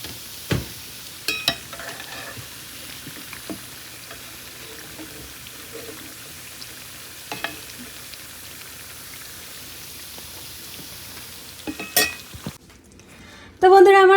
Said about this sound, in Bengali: এবার ওপাশটা ভাজা হয়ে গেলে তারপরে তুলে নেব।